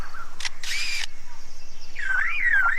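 Lyrebird copying camera shutters of different models, two quick mechanical clicks and whirring shutter bursts, then a short warbling whistle, close and distinct against quiet surroundings.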